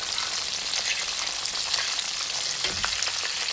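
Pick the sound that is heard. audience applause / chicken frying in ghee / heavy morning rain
chicken frying in ghee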